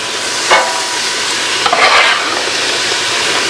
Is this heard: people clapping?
no